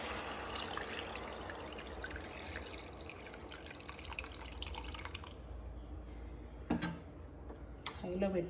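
Water is poured into a pan of fish curry, a faint, steady trickle and splash that thins out after several seconds, followed by a couple of soft knocks.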